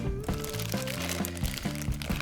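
Packing paper crinkling and crackling as a small figurine is unwrapped from a subscription box, close up, with a series of crisp rustles and crunches in bursts.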